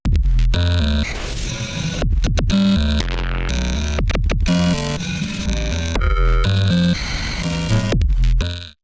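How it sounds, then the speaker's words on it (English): A loud, heavy electronic beat processed through the Infiltrator 2 multi-effects plugin stutters and glitches, with abrupt cuts, distorted bass hits and chopped, buzzing tones pounding nonstop. "Take a listen to this glitchy, heavy and loud beat."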